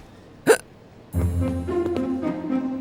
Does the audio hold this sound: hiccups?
yes